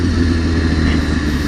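An Aston Martin passes close by with a loud, steady engine rumble and heavy road and wind noise throughout the short stretch, with no clear rise or fade.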